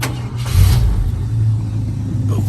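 A 1968 Ford Ranger F250 truck engine idles with a steady low rumble and swells briefly in a short rev near the start, then settles back, close and fairly loud with no talking.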